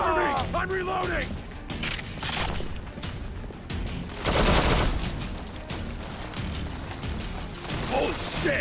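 Dense automatic gunfire and mechanical weapon clatter in the mobile shooter Modern Combat 4: Zero Hour, loud and continuous with bursts and sharp impacts, set against a busy battle soundscape.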